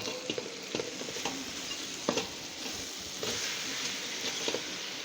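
Jute greens (pat shak) sizzling after being poured into hot oil over reddened onion and garlic, a steady frying hiss broken by scattered pops and the scrape of stirring, close by with no talk.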